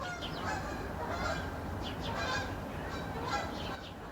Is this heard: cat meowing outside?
no